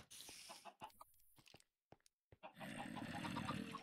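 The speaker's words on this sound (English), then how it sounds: "Quite a few chickens now." Chickens clucking in the Minecraft game, a few short clucks during the first half, then a steady busy game soundscape toward the end.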